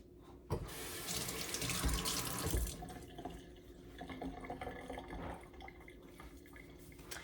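Tap water running to wet a cheesecloth for making homemade cottage cheese: a strong faucet gush starts abruptly, pours steadily for about two seconds, then gives way to softer splashing and dripping as the cloth soaks.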